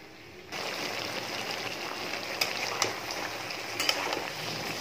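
Prawns and cucumber stir-frying in a pan in a home kitchen, giving a steady, close sizzle with a few sharper spits and crackles throughout.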